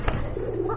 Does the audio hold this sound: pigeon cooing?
yes